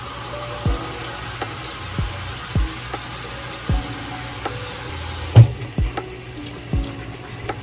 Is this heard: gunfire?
no